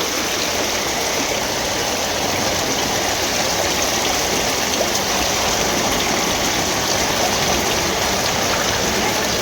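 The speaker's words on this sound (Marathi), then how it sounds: "इकडे पण पाणी आलंय." Heavy rain and floodwater pour into Dungi village, making a loud, unbroken roar of rushing water and downpour that holds steady throughout.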